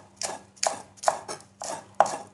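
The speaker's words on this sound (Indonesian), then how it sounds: "Potong-potong ini cabenya. Potong-potong juga daun bawang sama daun seledrinya." A knife chops chili peppers, spring onion and celery leaves on a board, five crisp close thuds in an even, unhurried rhythm with no talk.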